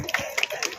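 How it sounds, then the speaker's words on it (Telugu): Brief scattered hand claps from an audience welcoming guests at a club inauguration and swearing-in ceremony, a few sharp close claps over less than a second. "దయచేసి అందరూ కూడా క్లాప్స్ కొట్టి వారికి మనం వెల్కమ్ చెప్పాలండి"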